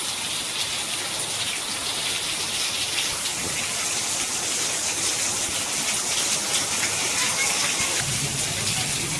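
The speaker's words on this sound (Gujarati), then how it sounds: "વરસાદ જોરદાર આવે છે અત્યારે" Heavy rain pours down with lightning in a dense, steady hiss that stays loud and unbroken throughout.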